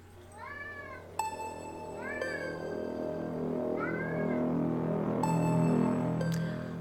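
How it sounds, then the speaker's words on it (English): A pet cat meows several times indoors in the background, a series of rising, drawn-out cries spaced a second or two apart over a low steady room hum. "Mowgli is meowing at me in the background like usual."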